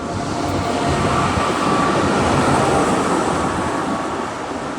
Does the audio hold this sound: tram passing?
yes